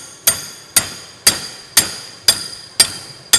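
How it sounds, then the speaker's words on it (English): A hammer strikes metal six times at a steady, even pace of about two blows per second, each a sharp, loud ringing clang that decays quickly, close by with no talk, during repair work on overheating hydraulics. "you know what you need? It's a hammer."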